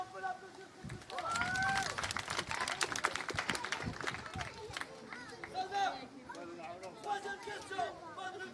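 A French TV quiz audience applauds a contestant's correct answer, a burst of loud clapping and cheering that fades into crowd chatter, with a presenter talking over it.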